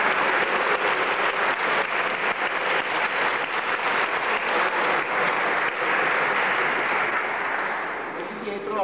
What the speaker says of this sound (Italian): applauso al nostro lettore